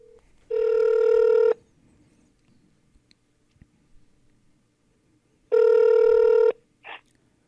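A telephone ring tone for an outgoing call to a baseball card exchange shop, heard as two long electronic ring bursts about five seconds apart, clear and steady with quiet line hiss between.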